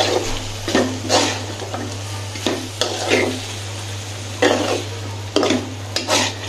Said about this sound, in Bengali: এটাকে আমি এখন কষাবো, সুন্দর করে কষাবো